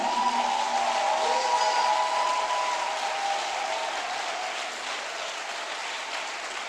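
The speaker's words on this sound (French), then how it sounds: "Give the Lord a big clap." A church congregation clapping together during a worship service, a sustained wash of applause that gradually fades, with a faint tone lingering underneath.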